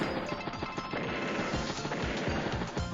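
Anti-tank unit firing on a battle copter in Advance Wars: Days of Ruin, a loud, dense burst of rapid crashing impacts and gunfire-like thuds rolling continuously for a few seconds.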